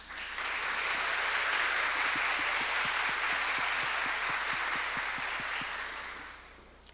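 Sustained applause from an audience at a women entrepreneurs' forum talk, a dense even wash of clapping with a faint steady rhythmic beat underneath, holding strong for several seconds before tapering off.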